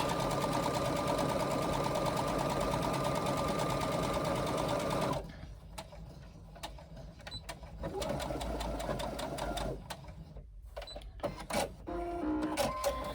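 A sewing machine runs steadily for about five seconds stitching a quarter-inch seam, then stops; after that come quieter handling noises and short bursts of stitching as the fabric is pivoted and sewn on.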